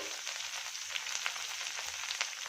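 Onion and tomato fry in a pan, giving a steady, fairly quiet sizzle that runs on evenly with faint crackles and no voices.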